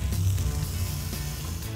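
Frozen corn on the cob fresh from a hot oven gives off a steady, close sizzle and hiss for about two seconds, with a low background hum and no talking.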